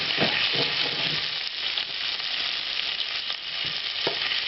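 Shrimp fry in a hot pan with red pepper flakes and salt, giving a steady, loud, close sizzle broken by a few soft stirring knocks and scrapes.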